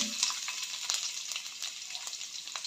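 Finely crushed garlic hits hot oil already crackling with mustard seeds and cumin, for a spring onion greens stir-fry. A steady, close hiss of frying runs throughout, dotted with sharp pops and crackles; no one speaks.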